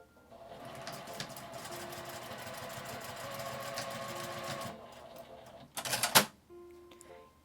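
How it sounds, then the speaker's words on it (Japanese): A sewing machine runs steadily for several seconds while fabric scraps are stitched into a small round plate, then stops, followed by a few sharp handling clicks. "こんな風に縫います。"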